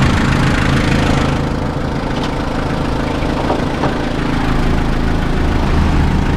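A Mazda Fighter Freestyle Cab pickup truck engine runs at a steady, close idle, a continuous low rumble that holds even throughout with no pauses.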